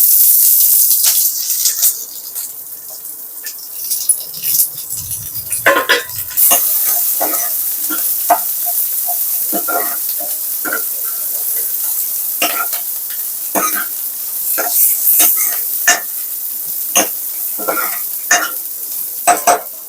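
Small onions and slit green chillies frying in a pan for Telugu pappucharu, a loud close sizzle with frequent scraping stirs and clatters throughout.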